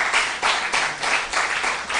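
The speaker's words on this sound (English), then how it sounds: "Please give him a round of applause." An audience at a school quiz competition claps in steady applause, a dense, even patter of many hands that swells in regular pulses for a couple of seconds, with no talk over it.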